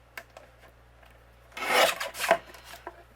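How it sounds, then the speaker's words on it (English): A paper trimmer slices through cardstock in two quick rasping strokes, close and clear, around the middle of an otherwise quiet stretch, with no talking. "taking my paper trimmer, I'm going to trim down 1/4 inch off"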